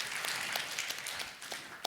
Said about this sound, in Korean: 제가 너무 좋아서 한번 박수 한번 쳐줬으면 좋겠어요